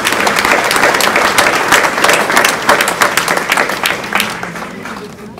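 Audience at an art salon's opening and prize-giving applauds an award for a sculpture, a loud, close and steady clatter of many hands that eases slightly near the end.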